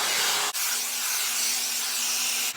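A brush hair dryer blows hot air steadily through hair, a loud broadband whooshing hiss with a faint motor hum underneath, briefly dipping as it is moved and then resuming.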